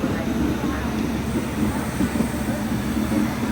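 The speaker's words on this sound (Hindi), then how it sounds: "और फिलहाल तो अपनी ट्रेन निकल चुकी है मुरादाबाद रेलवे स्टेशन" An Amrit Bharat Express train runs on after pulling out of Moradabad railway station, a steady mid-level rumble of wheels and carriages, with an indistinct voice faintly underneath.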